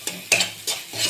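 Spice paste with salt being stirred and sautéed in a pan for a potato and eggplant poppy-seed dish: a few quick, close scraping strokes over a soft sizzle.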